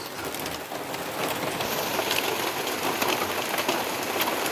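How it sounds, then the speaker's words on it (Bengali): Rain falling steadily outdoors near airport-area flats, a dense even patter at close range with no one speaking. "বৃষ্টি এসে গেল আবার।"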